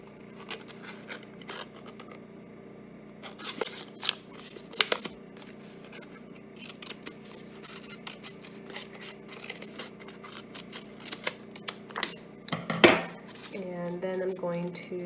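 Scissors snipping folded paper for a handmade fan, with a scatter of close, light clicks and rustles, some sharper snips and handling noises.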